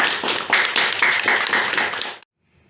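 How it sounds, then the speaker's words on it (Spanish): Audience clapping at a book presentation, a dense burst of many hands for about two seconds that cuts off abruptly into silence. "Y un aplauso por esa primera publicación del taller."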